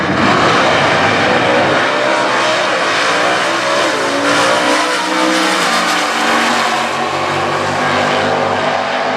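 Stock class drag race cars, an LS1-powered Camaro against a Belvedere, launch hard with loud, rising engine revs that climb and hold through the run, close and dominant with no talk.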